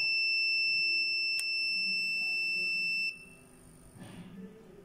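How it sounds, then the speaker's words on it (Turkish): A multimeter's continuity beep on a filter capacitor in a faulty Logitech S-220 speaker amplifier sounds loudly and continuously at high pitch for about three seconds, then cuts off, leaving quiet background noise and faint rustling. "Gördüğünüz gibi bir müddet sonra bip sesi kesiliyor arkadaşlar."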